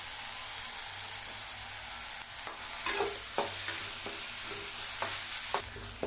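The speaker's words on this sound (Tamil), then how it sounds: "ஆட் பண்ணிட்டு தக்காளி நல்லா வதங்கட்டும்." Tomatoes sautéing in a pan for an egg side dish, a steady sizzle with intermittent scraping stirs of a spatula, close and continuous.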